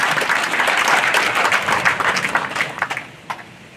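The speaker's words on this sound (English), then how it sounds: "let's give everybody a great round of applause for their contribution and support to the RHI graduates" Audience applause at a 2022 high school graduation ceremony, dense steady clapping from a large crowd that thins toward the end into scattered claps.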